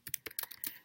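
Quick typing on a computer keyboard while writing research notes: about seven crisp, close key clicks in a rapid irregular burst, with no talking.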